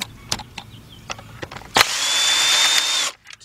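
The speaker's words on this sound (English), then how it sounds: "let's take out our three 10 millimeter bolts that's holding on to each coils." A power drill unscrews 10 mm ignition coil bolts on a 2005 Nissan Pathfinder 4.0, a loud close whirring burst of about a second after scattered clicks and taps of handling, then stopping abruptly.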